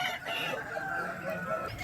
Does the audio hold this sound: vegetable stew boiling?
no